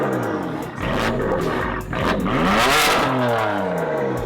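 A BMW M4 with an upgraded exhaust revs hard, its loud, close roar climbing and dropping with throttle blips under a steady engine rumble.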